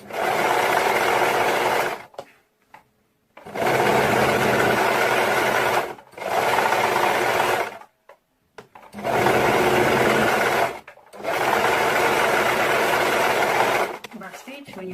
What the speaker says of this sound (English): So we are going to start stitching from this top part here.